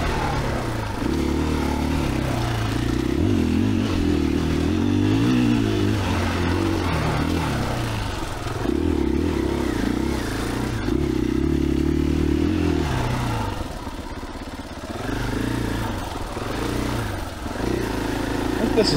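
A 2021 KTM 500EXCF dual-sport motorcycle is ridden along an off-road OHV trail. The engine drones steadily and loudly throughout, with shifting pitch as the rider works the throttle and clutch, plus some clatter from the ride.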